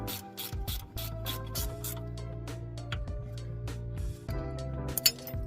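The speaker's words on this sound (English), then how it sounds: "I'm using an 18mm ratchet spanner" An 18mm ratchet spanner clicking as it turns bolts on the front brake of a Dacia Sandero, in repeated quick metallic ratcheting bursts with a clink, close up over a steady background hum.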